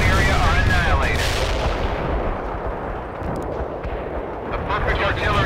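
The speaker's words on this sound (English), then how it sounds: "A perfect artillery hit." Heavy artillery explosions roar in a World in Conflict battle, a loud, dense rumbling barrage that starts at full force and slowly fades, with crackling debris and a radio-style voice in the mix.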